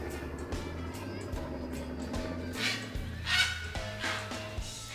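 Near a waterway with an airboat in the area, a bird gives several honking calls over a low engine-like hum, fairly faint and at a distance, with a voice briefly audible.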